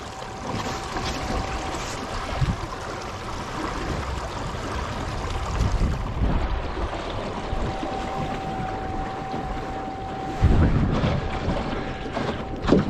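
A small boat driven by a Torqeedo electric outboard motor on open water in cold weather, with a steady rush of water and wind noise and a faint, constant motor whine beneath; a sharper splash-like burst comes toward the end.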